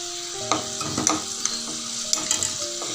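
Potatoes frying in a pan for potato pickle, a continuous sizzle with repeated scraping stirs of a spoon against the pan at an uneven rhythm, close and fairly loud, with no voices.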